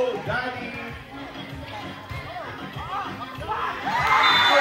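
Crowd cheering and shouting during a championship basketball game at a school sportsfest, a loud continuous roar with whoops and children's shouts that swells toward the end, with voices mixed in throughout.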